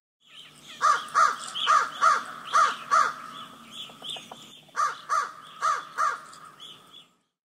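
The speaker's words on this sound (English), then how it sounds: "Crow." A crow caws over and over, harsh and loud at close range, in two runs of evenly spaced calls separated by a brief pause.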